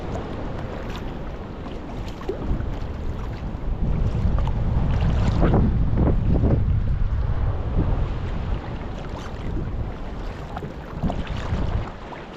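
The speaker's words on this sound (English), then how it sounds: "a wee bit more of a breeze here." Coastal breeze blowing across a sea kayak paddling along the shore from Forse Waterfall to Lybster, a continuous loud rushing wind buffeting the microphone over faint water, swelling midway, with no talking.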